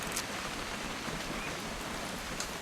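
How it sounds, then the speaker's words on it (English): Steady rain in the video game What Remains of Edith Finch, a dense even hiss of falling drops that fills the whole stretch without pause. "It's gonna rain the whole weekend, isn't it?"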